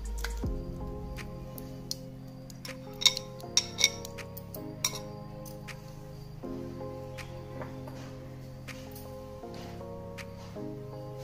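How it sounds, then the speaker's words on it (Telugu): Curd being added and mixed into rice for daddojanam, a Dussehra prasadam: soft wet squishing with a few spoon clinks under steady background music. "ఇప్పుడు పెరుగు వేసేస్తున్నా।"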